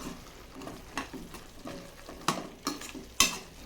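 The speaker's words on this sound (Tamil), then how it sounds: "இப்போது நல்லா ஒரு தடவை கலந்து விட்டுக்கோங்க." Spoon stirring a boiling coriander rice mixture in a pot, with a bubbling, sizzling bed broken by several scraping strokes and sharp clinks of utensil against the pot, close and moderately loud.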